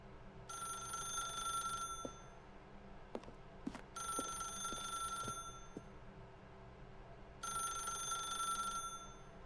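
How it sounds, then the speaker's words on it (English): Telephone in the video game The Stanley Parable ringing in three long electronic bursts separated by pauses, clear and fairly quiet, with a few soft clicks between rings. "then pick up the phone"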